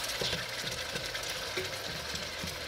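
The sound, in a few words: searing pork tenderloin in a pot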